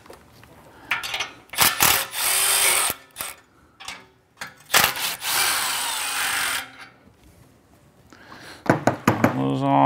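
A deep socket wrench loosening 13 mm bolts on a Porsche 911 GT3 RS exhaust during an aftermarket exhaust install: bursts of ratcheting clicks and metallic turning noises, close and loud, separated by pauses.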